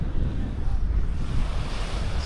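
Ocean waves washing onto a sandy beach at Playa del Carmen during a morning walk, a steady rushing roar of surf mixed with gusty wind against the microphone, continuous and fairly loud.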